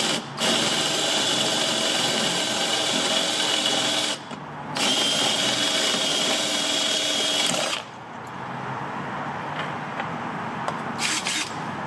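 Power drill boring holes in metal for a dual camera mount, three loud sustained runs with brief pauses between, the last one lighter in tone.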